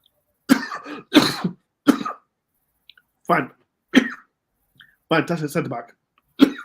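Someone talks, then breaks into several harsh, chesty coughs in bursts, close and fairly loud, with short pauses between.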